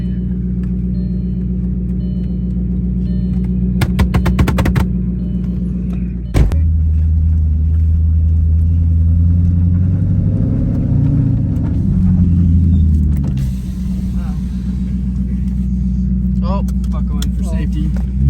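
An Audi doing a burnout, with a heavy engine rumble that swells and strains through the middle before settling. Someone talks over it throughout.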